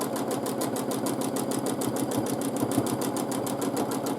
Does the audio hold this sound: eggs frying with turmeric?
no